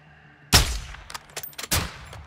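Gunfire in Call of Duty Modern Warfare II: a loud, close shot followed by a few quicker fainter shots and a second sharp report within about two seconds.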